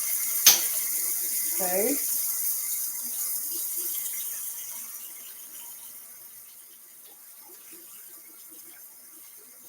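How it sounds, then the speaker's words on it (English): Spoon rinsed under a running kitchen tap in a home kitchen, a brief metallic clink then a soft steady stream of water fading toward the end, with a quiet spoken word near the start. "So I'm just rinsing the spoon."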